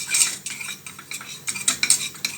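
Crêpe batter being mixed vigorously in a bowl, a rapid, close run of whisking and scraping strokes with rhythmic clicks of utensil on bowl, growing quicker and busier toward the end, with no voices.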